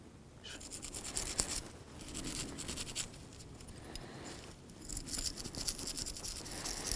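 Scrubbing of the rear brake caliper hardware tins on a 2003-2009 Toyota 4Runner: a steady, close, dry brushing and scratching that runs for the whole stretch, swelling louder near the end, with no talk.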